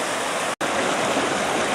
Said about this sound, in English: Okay, there's the new waterfall.